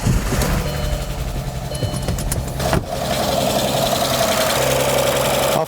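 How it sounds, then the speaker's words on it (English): An Audi bi-turbo engine, freshly fitted with a timing belt, cranks and catches, then runs loud and steady with ticking lifter and camshaft chain tensioner noise before oil has filled them. "Of course, we have all sorts of lifter noise and camshaft chain tensioner noise, but that's normal because, you know, they're not filled with oil yet."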